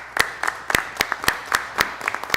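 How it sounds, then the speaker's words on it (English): Sharp, evenly spaced claps ring out one after another in a steady rhythm at a city council meeting as players are named, with softer scattered claps from others in between. "When I call your name, please stand for applause"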